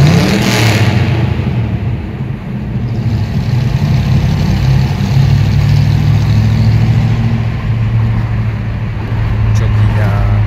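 Chevrolet Impala engine rumbling and revving inside a tunnel, a steady loud low drone with a swell partway through, while someone talks over it.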